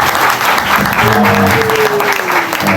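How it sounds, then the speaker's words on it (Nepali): A congregation applauds at a Christian wedding service: steady, dense clapping fills the space from start to finish, with a voice briefly rising over it. "सबैले ताली बजाइदिनुहोस्"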